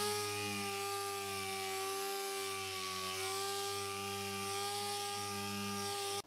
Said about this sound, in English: I have this air sander that I really like,